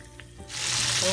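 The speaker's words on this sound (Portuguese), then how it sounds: "Agora eu vou fritar até eles dourar pra tá montando a nossa parmegiana." Fish fillets frying in hot oil for a fish parmigiana, a soft start that swells into a steady, loud, close sizzle with no talking.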